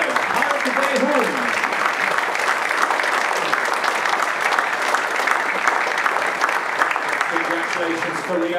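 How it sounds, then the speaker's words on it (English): Spectators applaud at the men's 50m pistol final of the 2015 ISSF World Cup Final in Munich, loud continuous clapping filling the hall while a voice speaks briefly at the start and again near the end. "please give a round of applause for our first confirmed elimination"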